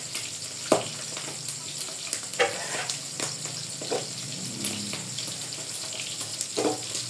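Pork meat frying in a pan gives a steady close sizzle, with scattered crackles and sharp pops of hot oil throughout and no one speaking.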